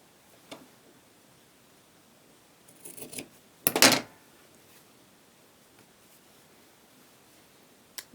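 Fabric scissors snip through quilt binding strips in a couple of short, crisp cuts, with one closer, louder snip standing out amid an otherwise quiet room.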